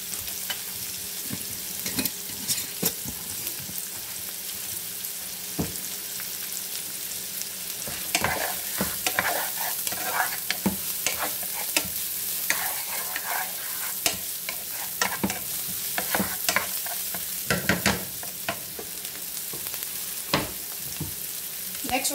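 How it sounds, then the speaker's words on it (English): Ingredients for a banana heart salad with coconut milk sauté in a pan, a continuous close sizzle punctuated by frequent sharp scrapes and taps of stirring, heard alone without talk. "I'm gonna saute that for a minute"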